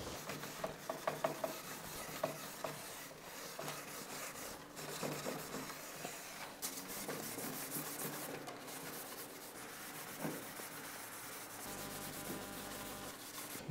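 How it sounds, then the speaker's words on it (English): Steel wool scrubbing a wet, stripped oak cabinet along the grain, a continuous rasping, gritty rubbing with repeated back-and-forth strokes, close and moderately loud throughout. "Scrub in the direction of the grain, you don't go around in circles"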